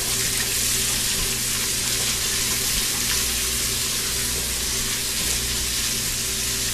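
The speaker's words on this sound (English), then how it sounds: "2 ribs of celery and 1 big onion. So I'll be sweating those" Two ribs of celery and a big onion sweating in a pan for ribollita, a steady, close, continuous sizzle with faint stirring underneath and no pauses.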